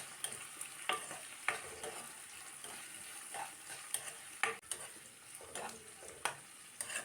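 Chopped onions sauté in a hot pan for a prawn curry, a soft steady sizzle with occasional sharp clinks and scrapes of a spoon stirring, quiet and close, no talk.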